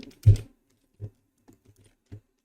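Computer keyboard keys pressed on a PC while setting up a game mod: one loud keystroke followed by several softer, sparse taps, close and alone with no voices.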